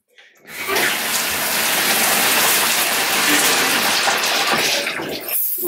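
Shower water runs steadily, a loud, even hiss of spray lasting several seconds before cutting off near the end.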